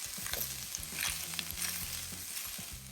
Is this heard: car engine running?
no